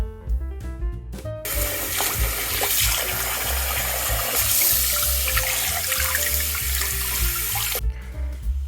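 Tap water runs steadily into a sink as printed fabric is rinsed, a full, close rush beginning abruptly after a brief faint start and cutting off near the end.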